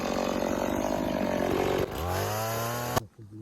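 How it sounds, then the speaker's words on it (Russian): Chainsaw running in a forest, with a steady loud engine drone that is cutting unevenly because of a fault, then dropping in pitch and idling before cutting off abruptly. "бензопила перестала пилить. Но она еще пилит, но какие-то проблемы"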